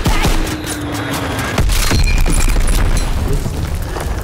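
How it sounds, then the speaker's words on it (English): Heavy, booming bomb blasts in a war video game land close and loud amid scattered gunfire, with sharp impacts near the start and again around the middle followed by rumbling debris. "Enemy bomb incoming."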